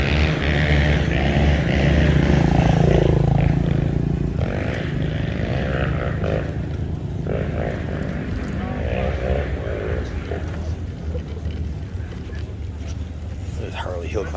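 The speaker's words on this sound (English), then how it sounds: "There's Harley hill climber. That thing's so badass. Wow, that thing sounds incredible." A Harley hill climb motorcycle with an 80-horsepower twin-cylinder engine revs loudly at an outdoor hill climb event, a rising and falling roar heard over spectators talking nearby.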